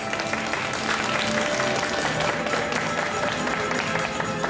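Dense, steady applause from a street crowd at a Sendai shopping-arcade water-sprinkling event with samurai performers, loud and continuous throughout, with faint voices mixed in.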